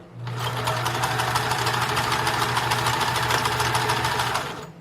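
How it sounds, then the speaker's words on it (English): Sewing machine running a straight stitch back and forth on a thrift-store bedsheet being made into a pioneer skirt, a steady close, loud mechanical whir with rapid needle ticking held for about four seconds. "So we're just going to straight stitch back and forth 2 or 3 times, or you can zigzag here"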